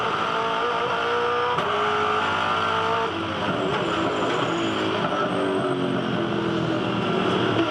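V8 Supercars race at the 2011 Perth Challenge. Several engines roar together in a loud, continuous drone, with pitch shifting as cars accelerate and jostle in a drag race down the inside, and no talking.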